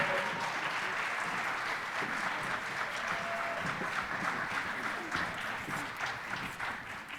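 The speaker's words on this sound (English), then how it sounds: "students with a round of applause." Audience at a public schools all-county high school chorus event gives sustained applause, a dense, even wash of many hands clapping that carries on without letup for several seconds at a fairly distant, moderate level.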